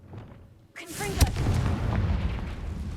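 A Confringo fire spell bursting in Hogwarts Legacy: a whooshing cast swells into a sharp booming blast, followed by a rumbling, crackling tail. A voice is heard just before the spell.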